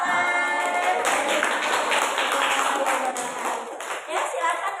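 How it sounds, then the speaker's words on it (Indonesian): A room full of people clap together, dense and continuous for several seconds, fading slightly toward the end. "Tepuk tangan."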